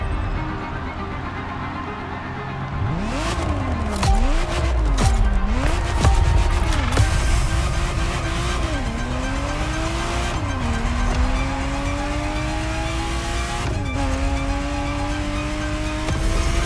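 A Ferrari Testarossa roars through a race in The Crew Motorfest, its engine revving up hard through repeated gear shifts, then settling into a long rising drone at high speed, loud and close with faint tire noise.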